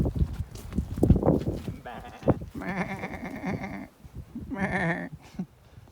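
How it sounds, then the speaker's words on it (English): A sheep bleats loudly twice in wavering, quavering calls close by, with people talking and rustling around it. "Nice little sheep."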